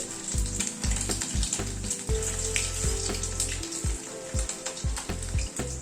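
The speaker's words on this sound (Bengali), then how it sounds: "গ্যাসের ফ্লেমটাকে কমিয়ে প্রায় 2-3 মিনিট সময় ধরে চিকেন গুলোকে ভেজে নিলাম" Chicken pieces frying in oil over a lowered gas flame, a dense continuous sizzle close by, punctuated by low thumps and clatter from the pan, with no voices.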